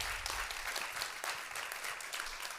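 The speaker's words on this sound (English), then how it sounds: "I would like for a warm applause for Paul." An audience claps warmly in a short, steady burst of applause, moderately loud and continuous throughout, with no speech over it.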